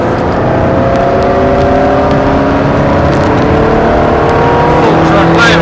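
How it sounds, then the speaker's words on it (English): A Ferrari accelerates hard through the gears on the Silverstone track, its engine roaring loud and close with a rising, sustained pitch as it goes on the power, heard from inside the car. "Accelerating hard on the inside of this Audi, going on the power, up to 4th, then 5th"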